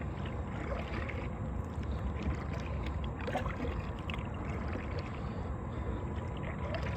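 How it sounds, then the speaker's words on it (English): A kayak is paddled on water on a summer outing, with soft, steady splashes and dripping strokes over a constant low outdoor rumble of wind and water, close and fairly quiet, no voices. "I'm curious to hear how the paddling sounds on the video."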